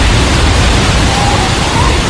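A storm gust slams against doors and windows in a horror drama effect, a loud, dense, unbroken roar of wind noise filling the whole stretch.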